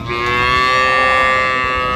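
A single loud, close, drawn-out moo comes from a cow at the Ambari livestock market in Dinajpur, where dairy cows and calves are traded.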